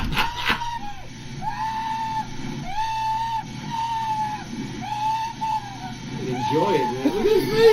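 A man screams all the way down a ride, giving long, wavering yells in repeated bursts that sound somewhat distant, while people nearby talk and laugh.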